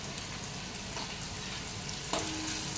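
Onion and tomato fry in a pan with red chili powder, giving a continuous, moderate sizzling crackle with small pops and a faint stir near the end.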